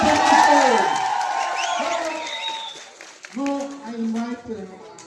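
At a government higher secondary school in Turtuk, a youth leaders' dialogue audience applauds, then voices rise in whoops and shouted cheers over thinner clapping.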